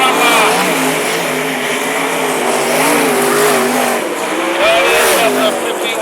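Sprint cars race at Mac's Speedway, a loud steady roar of several engines with shifting pitch as they circle the track, close and continuous, with an announcer's voice running over it.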